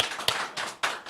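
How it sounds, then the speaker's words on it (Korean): Church congregation at a Sunday service clapping in thanks, heard as a few loose bursts of hand claps rising and fading, fairly close and moderately loud, with no talking. "오늘 특별히 우리에게 놀라운 또 청천과 또 헌금의 메시지를 전해준 우리 후조 자매에게 감사의 박수 드립시다"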